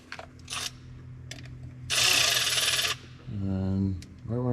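A hose connector clicks onto the fitting of a Pure Flow AirDog 165 lift pump during installation, giving a few sharp snaps and a short harsh rattle between them, close and fairly loud, with no talking.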